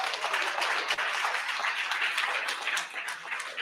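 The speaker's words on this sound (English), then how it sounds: "so let's give them a big round of applause" Guests at a charity benefit for Big Brothers Big Sisters Puget Sound, held in a private home, break into brisk, fairly loud applause that carries on for a few seconds.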